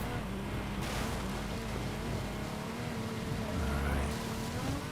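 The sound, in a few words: Ferrari off-road car engine driving in a video game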